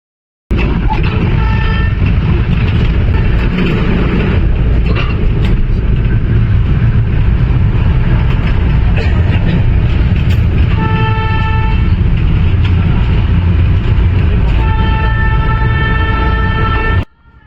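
Darjeeling toy train rumbling along at night, loud and close with continuous wheel and engine noise and recurring tonal squeals or toots, steady throughout with no talking.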